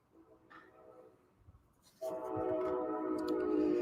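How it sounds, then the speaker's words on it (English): A train passes on railroad tracks beside a business, faint rumbling at first, then a loud sustained roar from about two seconds onward that continues to the end. "You guys hear the train going by?"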